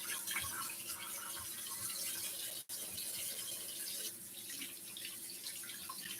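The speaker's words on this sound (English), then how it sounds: "I'm going to rinse that off" Tap water runs steadily over stew meat being rinsed in a sink, a faint continuous hiss and splash with one brief interruption midway.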